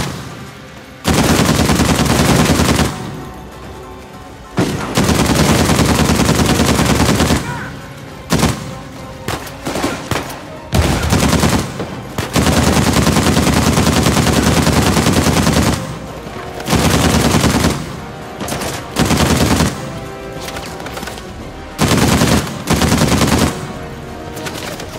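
Heavy-calibre gunfire in the video game Uncharted 4: loud, close bursts of automatic fire in repeated long volleys, broken by short gaps of quiet, with no talking.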